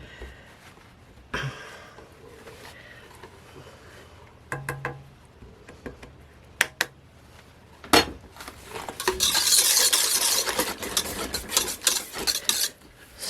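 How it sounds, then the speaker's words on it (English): A spatula scrapes shaving soap mixture out of a bowl, producing scattered clinks and knocks against the bowl followed by a longer stretch of close, rasping scraping, with no talking. "Let me get my spatula out here, get this stuff down."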